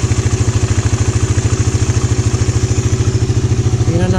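A Raider150 motorcycle fitted with a 30mm Keihin carburetor idles close up, its single-cylinder engine thumping in a loud, steady, rapid rhythm that shifts slightly in pitch at the very end.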